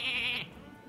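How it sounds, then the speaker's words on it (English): A video game's polymorph effect turns a character into a sheep, giving one short, bright, nasal bleat that stops suddenly and leaves quiet behind it. "So you're going to be a sheep."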